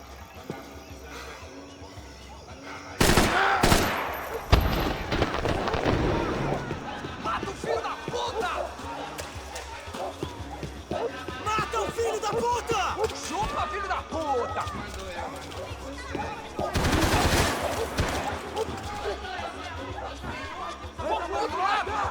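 Gunfire in Max Payne 3 comes as a cluster of sharp, loud shots early on and another burst later, over ongoing shouting voices, footsteps and scuffling action noise.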